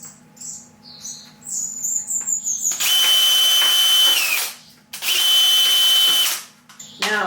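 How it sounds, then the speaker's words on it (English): A power drill bores air holes in plastic dishes in two loud, sustained whirring bursts separated by a short pause, with small birds chirping softly in the background. "drill some holes, so that's what I'm doing"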